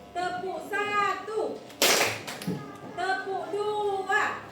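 A schoolroom class chants in unison while clapping in rhythm, sharp group claps bursting out between the sung words of a spirit cheer.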